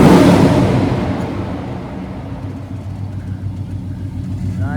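A 1970 Plymouth Road Runner engine runs loud and close, a deep rumbling roar that starts strongest and eases slightly to a steady throaty idle.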